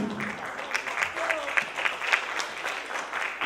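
An audience applauds a modeling agency's walk at a stage show during a cultural festival, a lively patter of many hands clapping at moderate loudness throughout, with a voice briefly heard.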